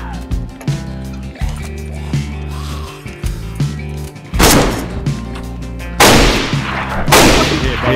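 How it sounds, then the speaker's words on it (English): Shotgun blasts in the video game DayZ, two or three loud, sharp broadband bursts in the second half, ringing over busy in-game sound and background music. "There's another shotgun shot for you."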